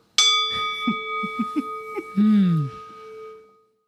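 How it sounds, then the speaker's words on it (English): A struck metal bowl rings with a clear sustained tone, while a voice speaks briefly over the lingering hum before it fades out. "You must wait for the ringing of the bowl"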